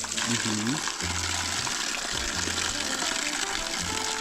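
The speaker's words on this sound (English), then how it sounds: "tell us about the spring. The water is refreshing." Natural underground spring water on a Caribbean island, a loud steady gushing flow filling the whole clip while people talk over it.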